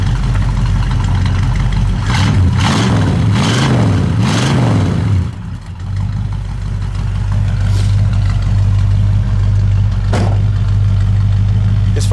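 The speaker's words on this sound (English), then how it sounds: "I'll rev it up just a little bit" A 1964 Mercury Comet Cyclone engine idles loud and close with a deep steady rumble, rising and falling through several quick revs before settling back to a smooth idle.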